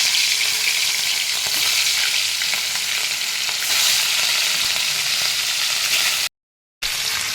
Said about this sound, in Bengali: এবারে আমি মাছগুলো ভেজে নেব, একটা একটা করে ছেড়ে দিচ্ছি